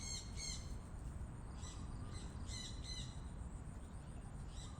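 Spotted doves, a decoy bird and a wild one, give repeated bright calls in short clusters, some near and some farther off, over constant outdoor hiss and low rumble; no one speaks.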